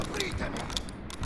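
Weapon reload in the video game Medal of Honor Airborne, a short mechanical sequence of metallic clicks and ratcheting clacks, close and moderately loud, with a voice faintly underneath.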